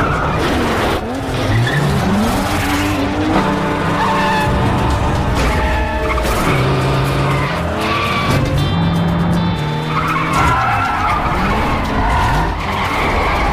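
Race cars skid through a street race with screeching tire squeals and roaring engines, loud and continuous over several passes, and music or effects are layered beneath.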